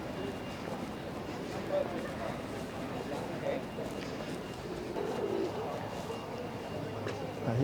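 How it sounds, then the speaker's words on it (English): Feral pigeons coo in a Bristol city street near a memorial; the low, soft coos sit under steady outdoor background noise while people talk nearby. "Pigeons are great."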